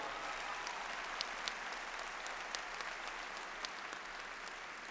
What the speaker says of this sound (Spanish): Aplauso para Raulito.